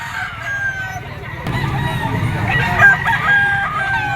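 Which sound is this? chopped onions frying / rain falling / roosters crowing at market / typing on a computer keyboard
roosters crowing at market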